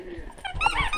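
A happy dog playing with a new toy in an RV gives short, high whimpering whines and squeaks, close and fairly clear, in a brief burst with no talk.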